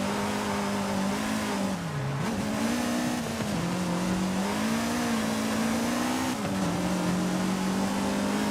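A car engine in Forza Horizon 5 drones loud and steady, its pitch climbing and dipping as it revs through gears, with brief drops at shifts and no talking.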